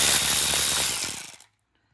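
A hand ratchet clicks rapidly and closely while removing differential cover bolts on a 1956 Ford Thunderbird, its pawl clicks slowing into distinct ticks before stopping abruptly into silence.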